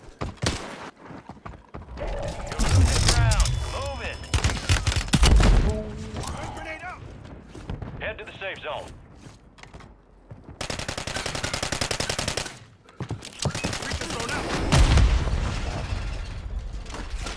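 Video game shooter gunfire comes in rapid automatic bursts, loud and close, broken by quieter gaps with mechanical clicks, while players talk between the volleys.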